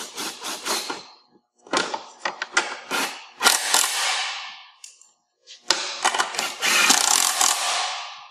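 A hand ratchet tightens bolts on Track N Go tracks, giving rapid close bursts of clicking in several separate runs with short pauses between them and no talking.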